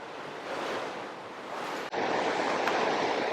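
Ocean waves surge and break on a shore in one continuous loud wash of surf, with a brief dip before a heavier wave rolls in; no voices.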